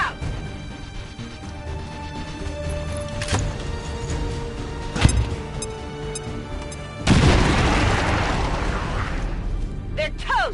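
A frag grenade goes off in the XCOM 2 video game, a burst of loud blast noise late on amid game sounds, with a voice talking earlier.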